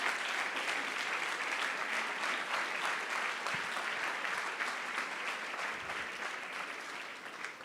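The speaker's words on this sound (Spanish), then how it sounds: "Denle un gran aplauso a nuestro Rey" A church congregation breaks into sustained applause during a Sunday service, a thick, even wash of many hands clapping that holds steady throughout.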